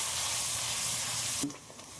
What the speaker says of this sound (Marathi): ती आता गिरवी आपण तेलामध्ये टाकून घेऊ आता याला छान आपण भाजून घेऊ